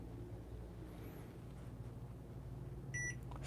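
A small espresso scale's timer gives a short electronic beep near the end, high and bright over a low steady hum in a quiet room.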